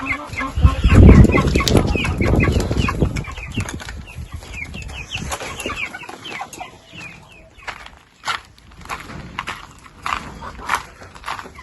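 Chickens flap their wings noisily up close and cluck as their coop is opened, the flurry loud at first, then settling into scattered clucks and calls.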